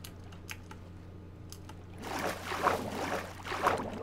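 Soft clicks give way to a swishing, splashing water sound of a Minecraft boat moving along, with paddle-like surges growing louder.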